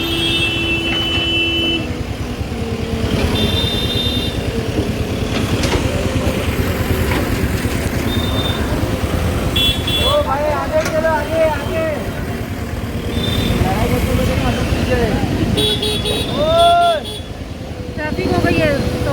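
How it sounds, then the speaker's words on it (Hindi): Heavy late-night road traffic around 1 a.m. on a street with a dug-up section, engines and motorbikes rumbling continuously while horns honk several times, the loudest bursts near the end, with someone talking throughout. "ट्रैफिक हो गई है सवा 1 बजे के टाइम पे रात में।"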